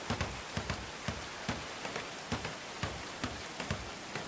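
Rain falls steadily in the medieval colony-building game Going Medieval, a constant hiss with soft, evenly spaced droplet taps over it, heard alone.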